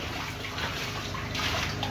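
Medicated water mixed with tetracycline capsules pours steadily into a catfish treatment tank, a continuous splashing wash of liquid heard close up, with no talk.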